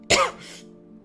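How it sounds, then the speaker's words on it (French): A single harsh cough up close, followed by a softer rasping exhale, then the start of another cough. "Il se remet à tousser."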